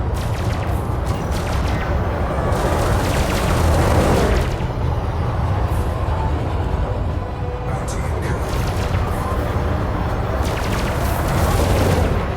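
A spaceship blows up in the space combat game Elite Dangerous, giving a loud, dense rumbling boom that swells and then rolls on for several seconds before a second burst follows.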